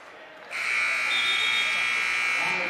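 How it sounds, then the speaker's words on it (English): A loud, steady electronic buzzer ends the first period of a Big Ten college wrestling match, cutting in after a brief quieter moment and holding its harsh tone to the end. "And the buzzer sounds"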